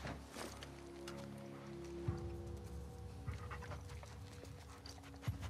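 A dog in the video game The Last of Us Part 2 pants and whimpers faintly under a rumbling game soundscape, with a few soft thumps scattered through it.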